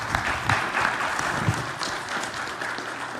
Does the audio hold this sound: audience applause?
yes